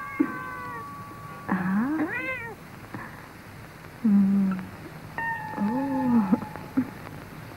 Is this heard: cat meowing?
yes